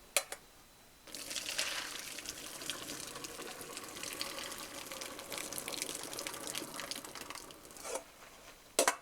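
Cooked pasta is drained into a sink, water pouring in a steady, broad rush for several seconds with faint clatter at the start and end.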